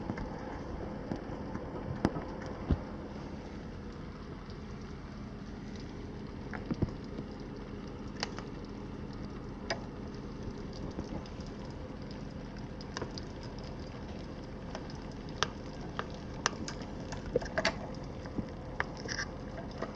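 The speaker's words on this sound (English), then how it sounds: "I can hear more of the raindrops hitting the roof at this window" Rain pattering on a house roof, heard indoors through a loose, poorly sealed window: a steady soft patter with scattered sharper drop taps throughout, moderately faint and continuous, with no voices.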